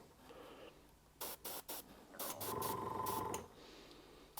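Airbrush spraying weathering paint onto a model cement wagon: three short close bursts of hiss, then a longer steady spray.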